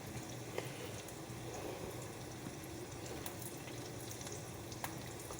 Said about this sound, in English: Y'all hear that sizzling right there?